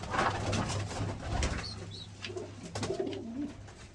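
Pigeons coo in low, soft rumbling calls with some background noise and rustling, fairly close.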